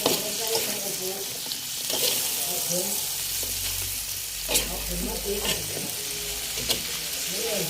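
Cauliflower stir-fried in a pan, with a steady loud sizzle broken by repeated scraping stirs and a few utensil clicks, plus brief quiet talk in the background.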